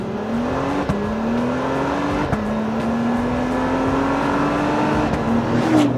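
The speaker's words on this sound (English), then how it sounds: "It's got kind of a really nice V6 note, actually." Acura TLX Type S V6 engine in Sport Plus mode, heard from inside the cabin: a steady, continuous drone that slowly climbs in pitch through the gears, with brief dips at each shift and no talking.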